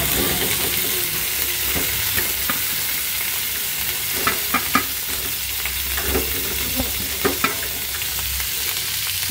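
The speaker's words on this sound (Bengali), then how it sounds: "এখন আমি এই যে সব রসুন, কাঁচামরিচ, পেঁয়াজ সব একসাথে ভেজে নিব।" Garlic, green chilies and onion fry together in hot oil, a steady sizzle punctuated by sharp scrapes and clacks of stirring, close and continuous with no voices.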